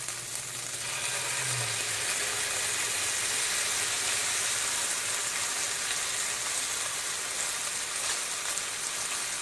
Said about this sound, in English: Listen to that intense sizzle.